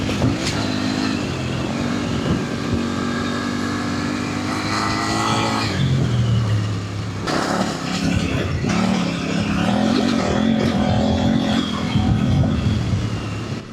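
A Kove 800X Pro motorcycle engine drones loudly and continuously, rising and falling in revs with gear changes, close and steady with no talk over it.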